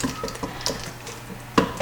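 Whisk clinking and scraping against a pot while a vegan mac and cheese sauce is stirred, a few close, irregular metallic taps and swishes.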